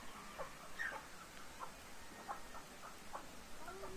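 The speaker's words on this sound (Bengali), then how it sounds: "সম্পূর্ণ দেশি মুরগি" Native village chickens cluck and call in short scattered bursts, several birds fairly close over a steady outdoor background with no talking.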